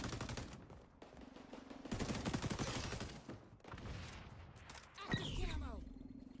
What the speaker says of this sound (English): what am I getting shot with?